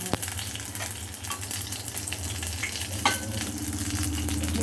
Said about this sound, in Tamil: ரெண்டே ரெண்டு கருவேப்பிலை போட்டு தாளிக்கிறோம்